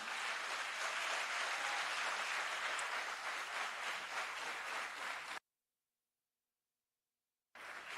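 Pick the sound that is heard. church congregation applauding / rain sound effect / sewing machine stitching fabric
church congregation applauding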